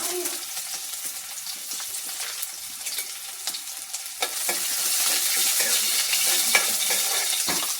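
Mustard seeds, garlic, shallots and ginger fry in hot oil in a pan, a steady close sizzle with scattered popping crackles that swells louder halfway through as the ingredients go in.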